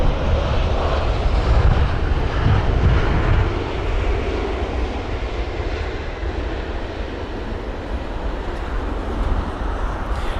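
An airliner landing at London Heathrow in windy conditions, a loud sustained jet engine roar with broad rumbling wind noise, heard from a distance with no talking.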